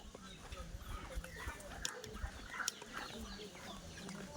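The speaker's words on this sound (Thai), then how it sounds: "เป็ดไก่" Chickens cluck faintly in the background of a quiet village scene in Don Hi Noi, with short scattered calls and low ambient noise.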